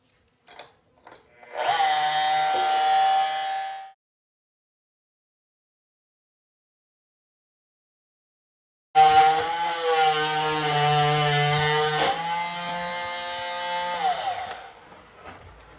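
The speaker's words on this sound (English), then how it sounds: "hopefully the little reciprocating saw I got on a pole is going to do the trick" Small pole-mounted reciprocating saw cutting through a fitting, a harsh buzzing run of about two seconds, a long silence, then a longer, louder grinding cut that wavers in pitch, close and alone.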